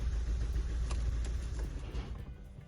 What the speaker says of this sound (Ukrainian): це я газ у підлогу давлю, вона 1200 обертів набирає і все